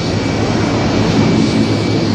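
Loud, steady roar of airplane engines at a busy airport where planes queue to land and take off, a continuous broadband jet drone without breaks or voices.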